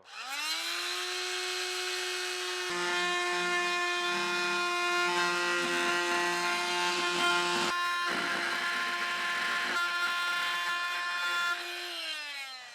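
A power tool with a carbide grit blade whines loudly and steadily as it cuts through curved trim, with a strong tonal hum, grinding rasps in the middle, and the motor spinning down at the end.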